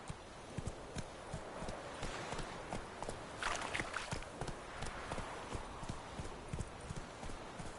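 Roach the horse gallops in The Witcher 3 with steady, rhythmic hoof clip-clops close by, carrying on without a break over faint background noise.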